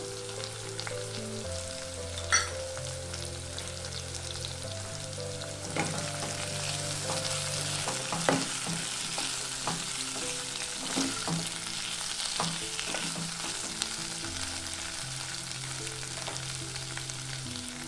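Boiled potatoes fry in oil with chili flakes as jeera aloo, a dense, even sizzle with scattered pops running throughout, plus a few stirring clicks, close and steady, no speech.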